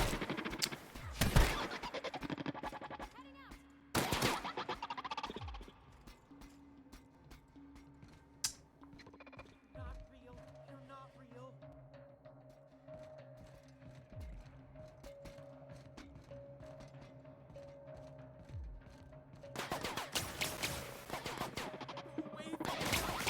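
Bursts of automatic gunfire from the PC game The Outer Worlds, sharp rattling volleys at the start and again near the end, with quieter game ambience and steady tones in between.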